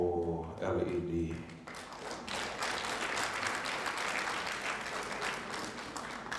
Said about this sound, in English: Yeah, you're not going to clap long here.